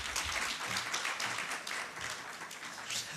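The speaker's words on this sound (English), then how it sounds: "Round of applause." Conference audience at a Namibian cybersecurity event applauding, a continuous wash of many hands clapping heard from a distance at a fairly soft level for the full stretch.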